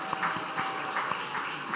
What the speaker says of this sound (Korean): 와우, 박수.